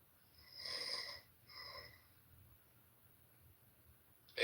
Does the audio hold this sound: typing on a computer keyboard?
no